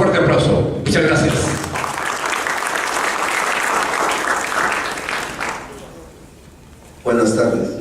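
Audience applause welcomes a speaker at a financial accounting course, a dense sustained wash of clapping that fades toward the end, then picks up again briefly.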